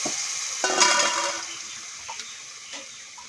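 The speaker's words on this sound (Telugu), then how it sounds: "ఇప్పుడు ఈ రసం అయితే ఇందులో పోసేస్తున్నాను." Tamarind juice pours into a pot of fish curry, giving a brief splash and sizzle followed by a few faint drips and light clinks.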